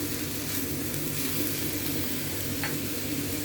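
Onion and pepper frying in a pan while being stirred, a steady dense sizzle with occasional soft scrapes of the utensil, close and continuous with no talk.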